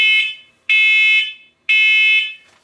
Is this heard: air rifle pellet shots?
no